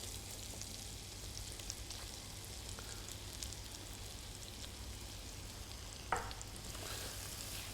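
Shallot fries in fat in a pan, a faint, steady crackling sizzle with a low hum underneath and a single brief clink partway through, no talking.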